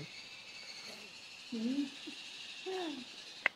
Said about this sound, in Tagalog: makakarinig lang kayo ng mga ibon kasi siya po ay nag-aalaga din ng mga ibon